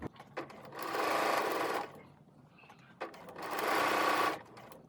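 A sewing machine stitches fabric in two sustained bursts, running fast and steady with a lengthened topstitch, with a short pause and light handling noises in between.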